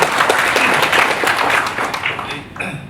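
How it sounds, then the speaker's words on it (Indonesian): Applause at an Indonesian gathering in Malang, a dense burst of many hands clapping nearby, steady and full at first before thinning and fading out toward the end. "Tepuk tangan."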